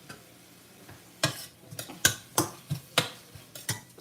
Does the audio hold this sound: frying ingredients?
yes